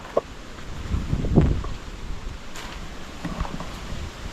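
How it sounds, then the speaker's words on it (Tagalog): Gusty wind buffets the microphone, rumbling low and swelling in strength around the middle before easing into a steady rushing. "biglang lumalakas ang hangin. Grabe mga kalahi, lumalakas ang hangin."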